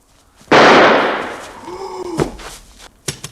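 A loud gunshot bursts out in a shootout scene from the 1973 film Soylent Green, a heavy blast with a long decaying tail, followed by scattered thumps, shuffling and a sharp second crack.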